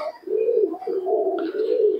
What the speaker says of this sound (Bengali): দেখেন চারিদিকে কবুতর